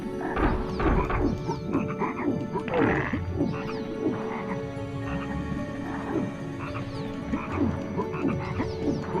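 Frogs in the PS1 game MediEvil croak over and over in quick, throaty bursts, several voices overlapping and fairly loud, with scattered game sound effects and no speech.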